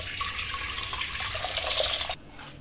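Water sloshed and swirled by hand in a vessel while washing whole green moong dal, a steady close rushing splash that cuts off abruptly near the end.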